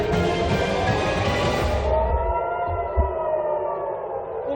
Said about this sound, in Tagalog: Umalingaw-ngaw ang mga sirena sa West Bank at Tel Aviv, Israel dahil sa missiles ng Iran.